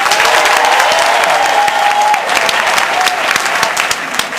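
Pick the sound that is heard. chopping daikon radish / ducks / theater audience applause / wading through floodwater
theater audience applause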